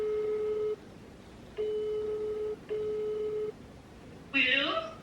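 An outgoing telephone call ringing, with three long steady tones separated by pauses heard close and clear, followed by a brief sound at the end.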